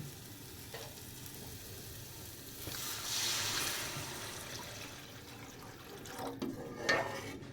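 Water poured into a hot pan of vermicelli upma, a brief hissing rush that swells and fades, followed by soft clatters and a low background sizzle.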